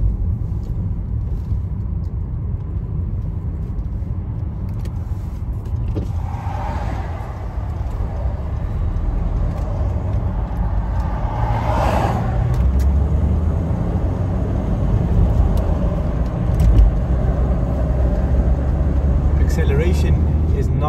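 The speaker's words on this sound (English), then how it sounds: "Acceleration is nice and smooth. The vehicle just wants to go without any hesitation." From inside a 2016 Land Rover Discovery Sport TD4 HSE with a 2.0L engine, a steady low engine and road rumble swells gently as the vehicle accelerates, with a voice talking over it.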